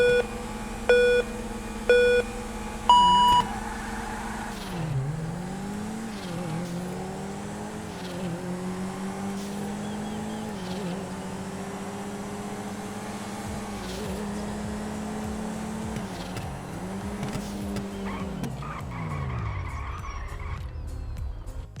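In-game race in GTA 5 between a Karin Futo and a Dinka Blista, one with a 2-liter four-cylinder: countdown beeps, then continuous engine drone rising and dropping through gear shifts, ending in a final deceleration.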